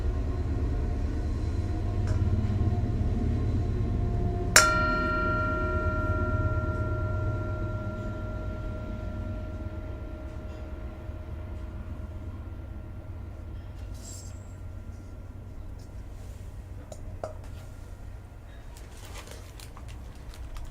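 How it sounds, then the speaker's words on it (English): A low rumbling train passes in the background beside the tracks while a single bright train bell strike rings out and slowly fades; faint bird calls appear later. "Here comes the train and the bell."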